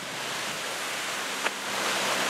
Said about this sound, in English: Look at the falls from down below.